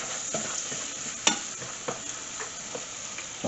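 Food frying on low to medium-low heat with garlic in a colourful jerk rice mix gets stirred in the pan, soft scraping strokes over a continuous gentle sizzle.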